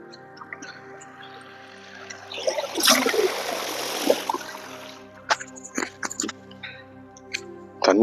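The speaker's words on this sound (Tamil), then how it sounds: "தண்ணி வேறு ஓடிட்டுருக்கு" Irrigation water runs into a crop field, a soft trickling flow with a louder burst of splashing midway, followed by scattered small splashes and drips.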